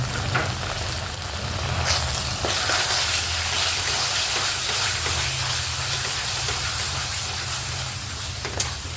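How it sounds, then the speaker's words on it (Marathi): Khandeshi masala spice paste frying in oil in a pan over low gas for chicken rassa, giving a steady, continuous sizzle and hiss close by with a few small pops, and no talking. "मसाला तेल सुटेपर्यंत फ्राय होऊ द्यायचं बारीक गॅसवर शिजू द्यायचा मसाला"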